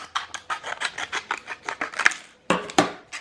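Scissors snip through a thin plastic packaging cover around a Xiaomi Mi WiFi Extender 2, a run of about a dozen quick close-up cuts in steady rhythm, then a pause and two louder final snips.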